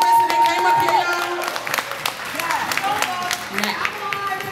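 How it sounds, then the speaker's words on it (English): Trivia contestants at a fashion show get applause from the audience, a burst of scattered clapping mixed with cheers and voices that fades to lighter claps. "Can y'all get some claps for them, because they took a risk and they came up here, y'all?"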